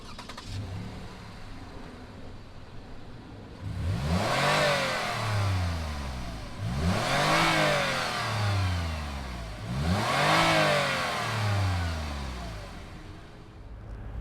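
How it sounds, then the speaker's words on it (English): A 2019 Lexus RX 350L engine cranks and catches, then revs up three times in rising and falling sweeps, steady idle between, heard close with no talking. "Let's fire it up and see what the RX 350 sounds like."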